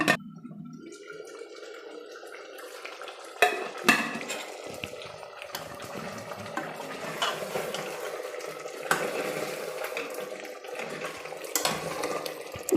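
Ground masala simmering and frying in water inside a pressure cooker for a chicken and potato curry, with a soft steady bubbling hiss, a spoon scraping and clinking against the metal pot, and a few sharper knocks.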